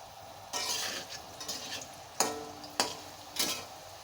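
Potatoes frying in hot oil in a home kitchen: a soft, steady sizzle broken by several sharper bursts of crackle and hiss as they are stirred or moved, close and fairly quiet.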